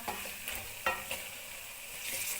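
Minced meat with peas frying and being stirred in a pan, giving a steady soft sizzle with occasional spatula scrapes and taps against the pan, close and fairly quiet.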